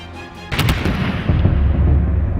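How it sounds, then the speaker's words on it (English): An M240 heavy machine gun fires a loud burst in a competition, with heavy booming reports and rolling echo after a brief quieter lead-in. "It's Sonny's turn on the M240"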